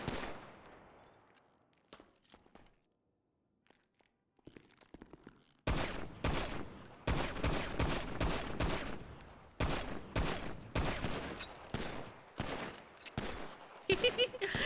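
Rapid gunfire from a role-play video game: after a few scattered shots and a quiet stretch, a long burst of sustained automatic fire rattles loudly and continuously to the end.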